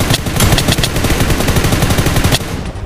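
Rapid automatic gunfire in the mobile shooter PUBG: New State, loud and close, with dense bursts of shots running for over two seconds before fading into quieter background noise.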